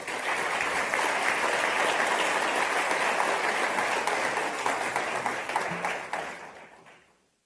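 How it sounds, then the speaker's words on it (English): An audience at an OAS gathering applauds after a Carnival performance from Antigua and Barbuda, a dense, sustained clapping that holds steady for several seconds and then fades away to silence. "Another round of applause, please."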